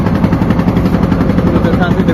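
A trawler's engine pounds out a rapid, even stream of loud, close thumps on a boat in the Sundarbans, a continuous mechanical chugging with no pause.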